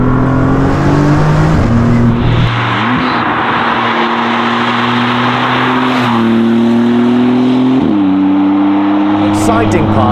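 A Maserati MC20 with a Novitec exhaust accelerates hard through the gears, its engine note climbing loud and close with quick drops at each shift. A voice talks over the engine.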